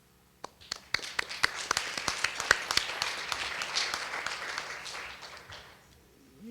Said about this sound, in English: It would be very nice to applaud